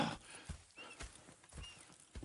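Horses shuffle and clop faintly at a hitching spot in Red Dead Redemption, a few soft, uneven hoof steps with a quiet snort amid ambient background.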